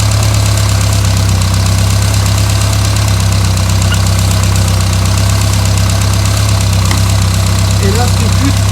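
A Renault Super 5 GT Turbo engine idles steadily and loudly nearby, a constant low rumble with a slight knocking vibration throughout.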